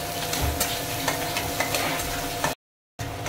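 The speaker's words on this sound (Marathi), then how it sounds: "आपण कांदा मस्त फ्राय करून घ्यायचा आहे तेलामध्ये" Chopped onion frying in oil in a pan, a steady close sizzle with occasional scraping stir strokes, cut by a short gap of silence before the sizzle resumes.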